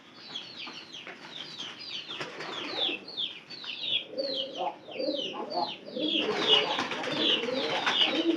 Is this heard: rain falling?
no